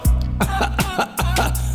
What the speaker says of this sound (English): Which cough is this one?